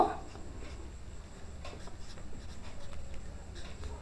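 Pen writing down a tailoring measurement, faint scratchy strokes at close range over a quiet room hum.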